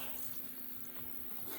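Water is poured over a waxed oilskin hat and runs off it as a soft, continuous trickling wash, close up and fairly quiet against a faint steady hum.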